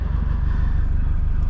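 Steady low rumble of a 2011 Subaru WRX hatchback engine idling close by, an even pulsing drone with no voice over it, running continuously until the end.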